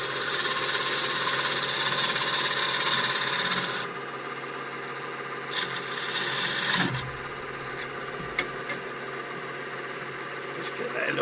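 A gouge cuts a small mortise into a hawthorn bowl blank spinning on a wood lathe, a close, hissing scrape that breaks off partway and returns in shorter bursts.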